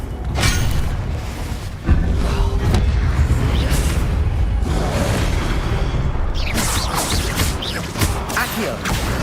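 An explosive Confringo spell in Hogwarts Legacy, heard as a loud booming blast with crackling debris that fills the whole stretch, with a second burst of impacts near the end.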